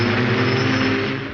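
Loud, steady droning whir of a Hoverbike S3's propellers, a constant buzzing roar held at close range for a moment.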